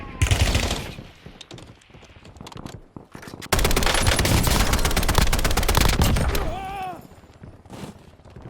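Rapid automatic gunfire in the Warzone video game crackles in short bursts, then a long sustained barrage of dense shots, with a voice briefly speaking amid the firing.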